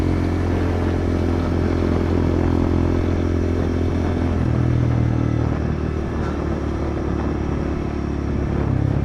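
A Kawasaki Z125 Pro motorcycle rides down the road with a steady, loud engine drone and wind rush, the pitch shifting slightly midway as the bike keeps cruising.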